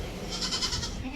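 A Malabari goat bleats in a short, close, wavering cry, heard at a livestock sale.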